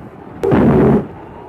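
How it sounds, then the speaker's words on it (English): A cannon fires a shot with a double load of gunpowder, one loud close boom with a sharp onset that rumbles for about half a second, then cuts to silence. "Rocks were placed under the cannon to give it elevation, a double load of gunpowder was used, and the shot was fired."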